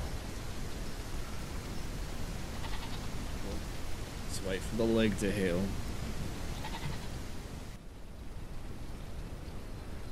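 Goat bleating in The Isle: Evrima, a survival dinosaur game, a short wavering cry of a few quick bleats midway through over steady rain-like hiss, with a voice talking nearby.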